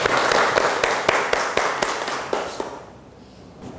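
A classroom of students clapping hands together at a lesson on television drama scriptwriting, a dense burst of claps with a few sharper strikes that fades out after about three seconds.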